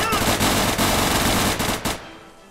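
Automatic gunfire in the video game Unturned rattles in a loud, dense burst of rapid shots lasting about two seconds, then cuts off into a fading tail.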